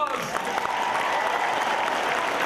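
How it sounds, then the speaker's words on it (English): Studio audience at a Wheel of Fortune taping breaking into steady applause, a dense even wash of clapping with faint cheering mixed in. "Let's hear some applause."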